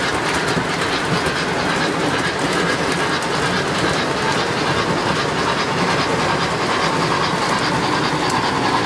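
HO scale GP38 model locomotive running on track, a steady dense rumble and rattling hiss of wheels and motor that stays loud and close without pause, no voices.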